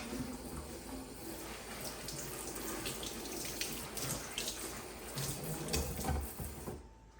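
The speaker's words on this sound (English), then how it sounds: "Do a double rinse just to make sure you got everything." Tap water runs steadily into a sink while a freshly repotted houseplant is rinsed a second time, a close, continuous splashing wash with no talking.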